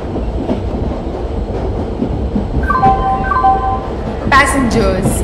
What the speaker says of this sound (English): Passenger express is arriving at platform